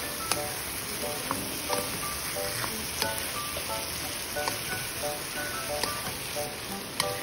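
Pork sizzles steadily in a hot pan while being stirred, a constant close crackling hiss punctuated by occasional light scrapes and taps of the utensil.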